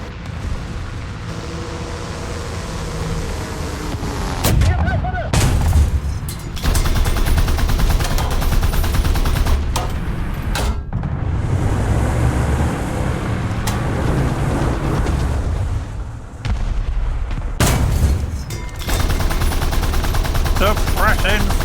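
Sustained gunfire and explosions from a Shogun 2 video game battle, loud and dense for most of the span with brief drops, with some voice activity mixed in.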